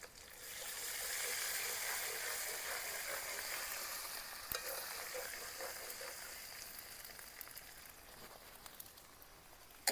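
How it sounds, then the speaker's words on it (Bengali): Ginger garlic paste frying in hot oil in a wok, a steady soft sizzle that carries on for several seconds with occasional stirring clicks and no talking. "আদা রসুনটা একটুখানি ভাজা ভাজা করে নেব যাতে কাঁচা গন্ধটা চলে যায়"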